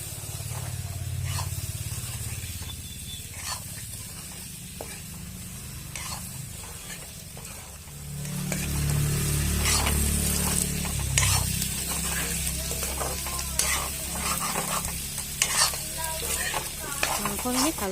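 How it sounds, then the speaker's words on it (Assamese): Pork stirred and frying in a pan with ground coriander and red chilli powder: steady close sizzle with scraping stir strokes throughout, growing louder partway through, no talk. "এতিয়া ভালদৰে লৰাই 3 মিনিটমান সময় আকৌ এনেদৰে ভাজি থাকিম"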